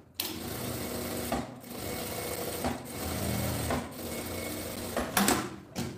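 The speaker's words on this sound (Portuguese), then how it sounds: "Aqui em cima onde tem a dobra, eu vou passar uma costurinha com o pé de máquina" A sewing machine presser foot runs a line of stitching along the fold of a fabric makeup pouch, its steady motor whir broken by a few brief pauses and restarts, close and alone.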